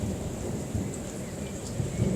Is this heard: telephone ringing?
no